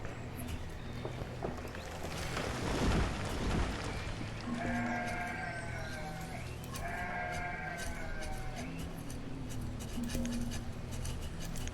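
Sheep in the village-building game Banished bleat faintly several times in repeated wavering calls over a low ambient game soundscape.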